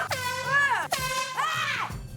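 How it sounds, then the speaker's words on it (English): Air horns blasting loudly, two long tonal honks in quick succession, each with a slight pitch bend, with no talking. "Air horns."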